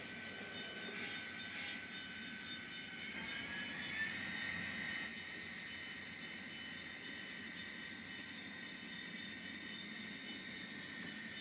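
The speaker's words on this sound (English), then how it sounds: "let me just get the train a little bit more forward" A model train hums and whirs quietly along its track with a faint high whine, running steadily with no voices.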